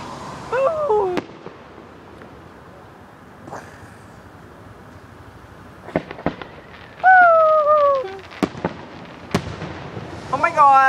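Fireworks at a public display in Cascade Locks, with sharp distant bangs and crackles scattered among quiet gaps, whistling streaks rising between them, and people talking and exclaiming nearby.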